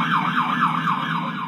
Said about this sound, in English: you hear the siren of the first sheriff's unit arrive